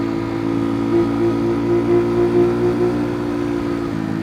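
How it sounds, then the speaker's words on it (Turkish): A steady engine drones loudly and continuously, swelling slightly in pitch and volume a few times, like an idling motorcycle being gently revved; a Kuba Race 125 motorcycle. "Sanki böyle abartı egzoz varmış gibi sesi var."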